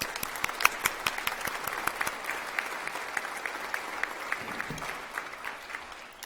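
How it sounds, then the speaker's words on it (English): Sustained applause fills a hall at a university convocation ceremony, with many hands clapping steadily at a moderate distance and a few sharper claps standing out near the front. "Please join me in a round of applause in recognition of this remarkable accomplishment."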